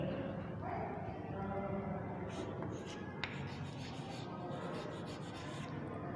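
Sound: writing on a board during a lecture

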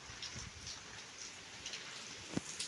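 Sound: rain falling

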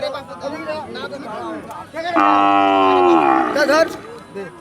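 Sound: cow mooing at a livestock market

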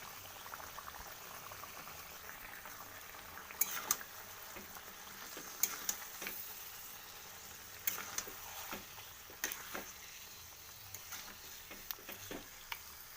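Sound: meat frying in oil with dried chilli

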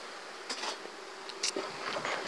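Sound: honeybees buzzing at the hive

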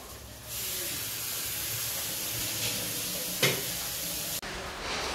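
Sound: aloo bondas frying in hot oil

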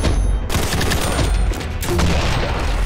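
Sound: minigun firing, from first-person shooter video game

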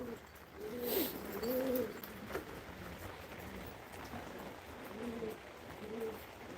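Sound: turtle doves cooing in the garden

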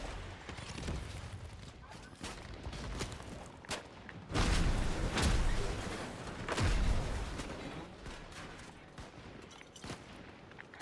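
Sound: gunfire in Fortnite video game

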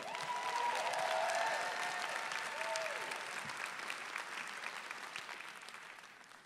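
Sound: audience applauding and cheering for a dance act

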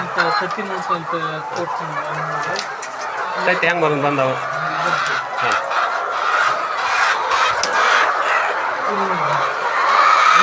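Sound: egg-laying hens clucking at a poultry farm

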